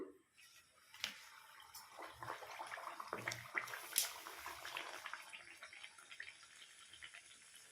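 Ariselu, a sweet made of rice flour, goes into hot oil and sets off a soft crackling sizzle. It swells from quiet after the first second into a steady, faint bubbling hiss that stays close and plays alone.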